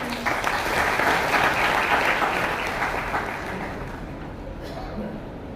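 Applause from an audience at a Marathi motivational talk for students and parents, dense steady clapping that swells then gradually thins and fades toward the end.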